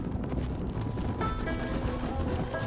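Horse hooves clip-clop steadily in Red Dead Redemption as a horse is led into a pen, a continuous mid-distance trotting rhythm over a steady ambient bed with no voices.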